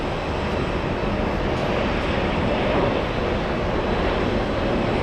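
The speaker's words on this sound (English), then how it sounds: "We have Virgin Atlantic. It's an A330 Neo flying in from Heathrow." A Virgin Atlantic Airbus A330neo arrives at JFK from Heathrow, producing a loud, steady, broadband jet roar that stays constant throughout.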